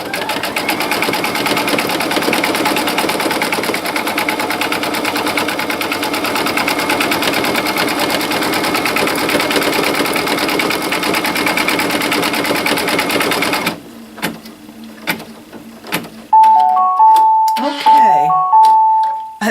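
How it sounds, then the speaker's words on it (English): A machine-embroidery sewing machine stitches a border piece onto a baby quilt, a loud, rapid, continuous needle rattle that stops abruptly, followed by a short electronic melody signalling the step is done. "I just have to put the presser foot down, press go, and it's going to stitch this border piece in"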